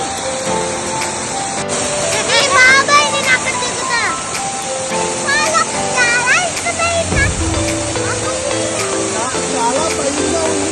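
A waterfall pours with a steady rushing splash, loud and close throughout, while children and adults talk and shout over the water.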